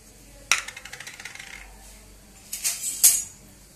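Cashews dropped into a pan with a teaspoon of ghee for jaggery kesari, giving a sharp clatter of nuts hitting metal followed by a run of small taps, then a few more rattling drops, with no talk.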